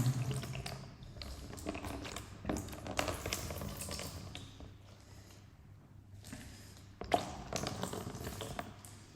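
Fermented, alcohol-smelling liquid pours out of an old jar that sat sealed for five years, a splashing, gurgling flow with uneven surges and short pauses, fairly close and moderate, with no talk.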